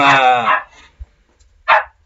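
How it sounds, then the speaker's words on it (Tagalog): A dog gives two or three loud nearby barks, one long harsh bark first, then a short gap and a sharper single bark, in an otherwise quiet room. "maingay yung aso."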